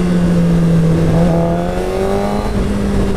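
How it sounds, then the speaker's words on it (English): A stock-exhaust 2015 Suzuki GSX-R 600 sports motorcycle engine drones steadily and loud, its pitch rising slightly as it pulls, close by with no talking. "this bike has a really interesting sound stock, like totally bone stock exhaust. It has a really cool sound."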